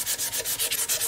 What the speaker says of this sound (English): It's going to take quite a bit more sanding like this to get it all cleaned up.